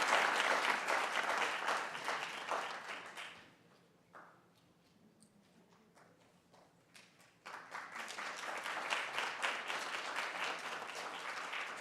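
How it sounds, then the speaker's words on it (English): An audience at a leaders' stage event on entrepreneurs building a sustainable future applauds the commitment makers. The broad, loud clapping eases into a quieter lull midway, then swells back to full strength. "Give these commitment makers a round of applause"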